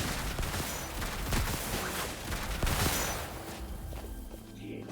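Clorinde firing her weapon in Genshin Impact, a run of sharp gunshot-like bursts over busy game effects and movement sounds at moderate volume.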